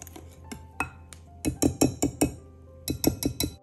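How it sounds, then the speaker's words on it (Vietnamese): A spoon or whisk stirs mooncake batter of flour, milk and vegetable oil in a bowl, giving bright clinks against the bowl in two quick bursts of rhythmic strokes. "Sau đó mình trộn lên cho hỗn hợp này nó đều,"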